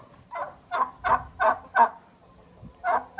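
A turkey gobbles in a rapid series of about seven loud, close, rhythmic bursts, heard alone without any talking.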